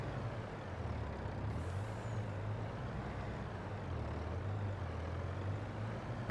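A truck drives in Farming Simulator 22 on the Elk Mountain Wyoming map, giving a steady low engine drone with a faint hiss partway through. It keeps a moderate level throughout, with no talking.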